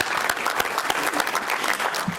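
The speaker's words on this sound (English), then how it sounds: "Give him a round of applause" An audience at a forum speaker series event breaks into steady, moderately loud applause, a dense patter of many hands clapping without a break throughout.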